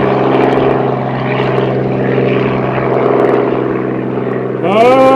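A small propeller aircraft drones out over the runway heading into an east wind, its engine a steady loud buzzing hum that wavers slightly, with a brief rising mechanical whine at the very end.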